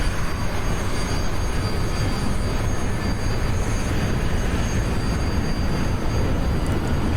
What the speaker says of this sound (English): Okay, let's get these engines up and running.